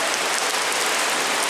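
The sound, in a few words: heavy rain falling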